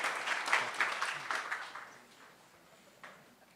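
Applause from the audience at a town hall in Ohio, a moderate burst of clapping that starts fairly full and fades away over a few seconds, heard at some distance.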